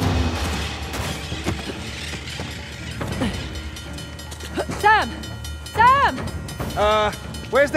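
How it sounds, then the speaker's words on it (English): A train rumbles and clanks in Uncharted: The Lost Legacy, a continuous heavy rolling drone with mechanical knocks, while frantic voices shout over it in the second half. "Oh, train's getting closer!"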